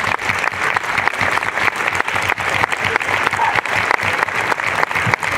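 Applause at a book presentation, a close, loud round of clapping from a small audience with a steady, slightly pulsing rhythm throughout.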